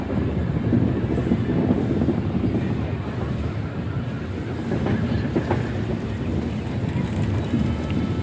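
Intercity Express train with LHB coaches running out of Rajkot, a continuous close rumble of wheels on rails with faint clickety-clack and wind noise throughout.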